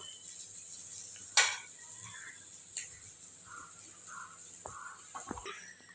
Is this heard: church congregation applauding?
no